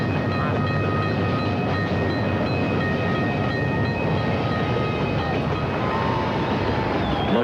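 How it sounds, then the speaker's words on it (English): A train rolls past nearby, a loud continuous rumble with screeching wheel tones and rattling cars throughout. "I was saying, Jay, it's hard to hear when the train's going by."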